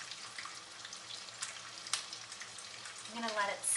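Keto cod fritters fry in a pan over medium heat with a faint, steady sizzle and a few soft pops and scrapes.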